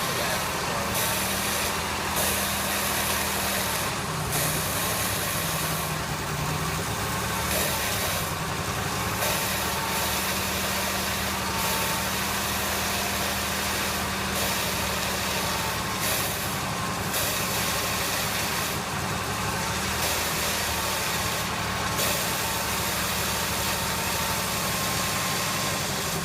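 A 1988 Buick LeSabre with a 3800 engine runs steadily after a Seafoam treatment, its droning idle loud and close, with brief hissing bursts and rattles over the top and no talking.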